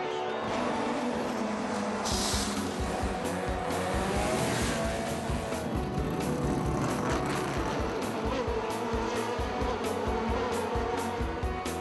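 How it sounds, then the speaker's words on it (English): Stock car motors at the San Jose Grand Prix roar steadily and loudly, a dense, buzzing engine drone with rhythmic pulsing and shifting pitch as the cars run, no voices. "The crowds gather along the fence as soon as they hear the motors roar."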